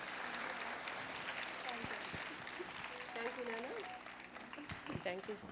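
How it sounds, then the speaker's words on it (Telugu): Audience clapping at a large community Christmas celebration in Warangal, a dense steady wash of applause from a crowd, heard from some distance under a speaker's amplified voice. "గట్టిగా మరొకసారి చప్పట్లు కొట్ట"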